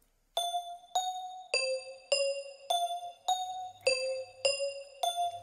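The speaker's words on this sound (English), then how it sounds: "So here's how the bell sounds." A crystal bells synth preset from Nexus in FL Studio plays a simple sequence of eight bright, ringing bell notes at an even pace, each chiming clearly with a shimmering decay, alone and close.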